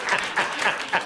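Four evenly spaced hand claps in a slow, steady rhythm, close and moderately loud.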